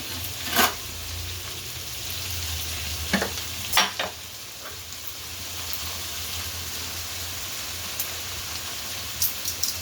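Tomatoes and onions with salt sizzling steadily in a hot pan, with a few sharp clinks and scrapes of stirring scattered through the frying hiss.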